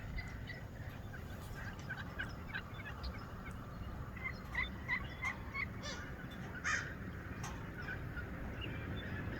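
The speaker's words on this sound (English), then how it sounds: "I think this is the most amount of turkeys I've ever seen at one time." A giant flock of wild turkeys at Volcan Mountain Wilderness Preserve keeps up a steady, overlapping gobbling chorus in a field, with sharper individual calls popping out now and then against a constant background murmur.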